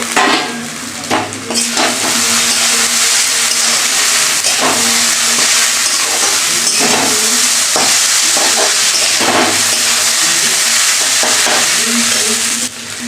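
Crumbled egg omelette sizzles loudly in a hot pan while a spatula stirs and scrapes through it in repeated strokes, with steady frying hiss throughout and no talk.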